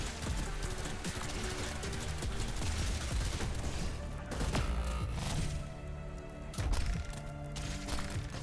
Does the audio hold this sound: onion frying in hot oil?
no